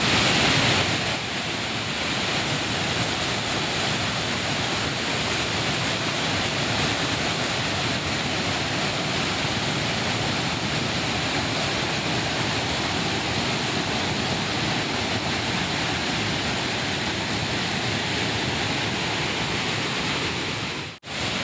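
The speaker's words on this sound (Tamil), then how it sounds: "இதனால் அருவியில் வெள்ளப்பெருக்கு ஏற்பட்டிருக்கிறது." The Suruli waterfall near Kambam in Theni, in flood after heavy northeast monsoon rain, roars as a loud, continuous broadband rush that stays constant throughout before cutting off abruptly at the end.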